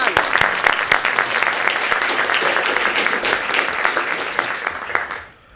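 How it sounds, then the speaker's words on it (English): Dense, loud applause from a lecture audience fills several seconds as a steady roar of many hands, then quickly fades away at the very end. "Another round of applause, please."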